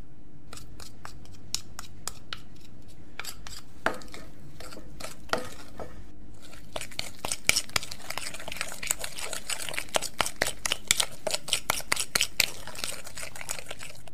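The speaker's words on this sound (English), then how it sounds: "Add the chocolate to the bowl and mix." Chocolate mixture being stirred in a bowl, a run of irregular scraping and clinking taps from a utensil against the bowl, sparse at first and then quicker and busier, close and with no talking.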